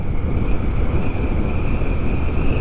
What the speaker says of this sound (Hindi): एकदम ठंडी हवा चल रही है।